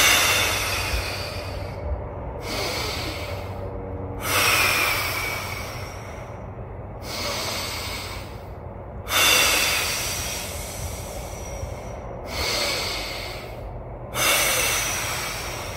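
Deep, rhythmic breaths during a Kinstretch mobility exercise, a series of loud inhales and exhales in repeated cycles with brief pauses between them, close to the microphone and with no talking.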